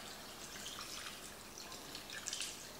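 Half a liter of water poured onto creamed coconut while cooking beef rendang, a faint continuous trickle and drip in a kitchen, heard alone at low level and rising slightly near the end.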